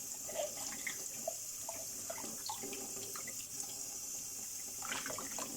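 Water runs steadily from a sink tap during dinner washing-up, a continuous broadband hiss with scattered clinks and splashes throughout.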